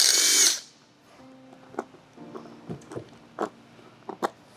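A 10mm socket wrench works on the hardware of a custom seat for an SG250 motorcycle: a short loud burst, then sparse, sharp ratcheting clicks at close range in a quiet space.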